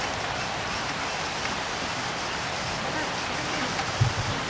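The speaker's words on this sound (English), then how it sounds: "It's just starting to rain here." Soft, steady patter of light rain, a gentle hiss throughout with a faint thump near the end.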